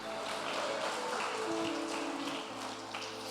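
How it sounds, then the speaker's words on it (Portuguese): A church congregation applauds in a dense, continuous patter of claps that carries on for a few seconds, with voices mixed into the crowd noise. "As palmas para Ele."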